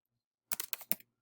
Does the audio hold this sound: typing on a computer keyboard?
yes